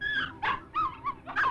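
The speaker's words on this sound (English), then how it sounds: "show his puppies whimpering over his corpse" Cartoon puppies from the 1954 animated Animal Farm whimpering over a dead dog, a series of about five high, wavering whines and yips in quick succession, close and clear.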